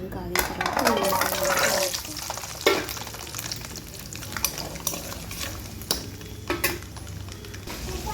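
Peeled garlic cloves, about 150 grams, dropped into hot oil for chicken pickle, sizzling and frying while a spoon stirs and scrapes the pan with sharp clicks, with steady crackle underneath and a voice talking over it.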